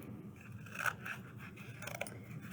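Scissors snip through paper around a traced outline, a few quiet close crisp cuts and scrapes.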